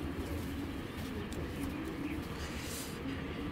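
Pigeons coo continuously in a low, steady murmur, with a black-shouldered hen among the birds, under constant loft background noise and no clear talk.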